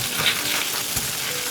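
Green beans stir-fried in oil over high heat in a wok, a loud, steady close-up sizzle with a quick tossing scrape in the middle and no voices.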